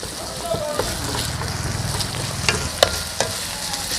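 Garlic and onion frying in a pan with a little salt for masala potato curry, a continuous loud sizzle with scraping stirs and scattered sharp clinks of a spoon against metal.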